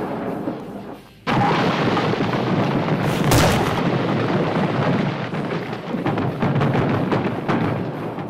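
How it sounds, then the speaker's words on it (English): Heavy gunfire and booming blasts from enemy fire hitting a dugout, a dense, loud, continuous roar of shots and explosions after a brief lull, with no voices clearly audible. "He's firing right on us!"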